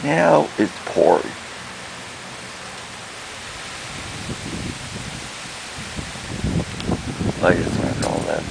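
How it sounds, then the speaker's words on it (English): Heavy rain pours steadily outdoors in a tropical storm, a broad continuous hiss that builds slightly toward the end, with a person speaking briefly at the start and again over the downpour later. "Now it's pouring."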